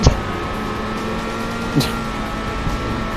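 A steady video game car engine drone with a low rumble runs throughout, punctuated by a couple of brief thumps and a short rising whoosh partway through, from 007: Nightfire.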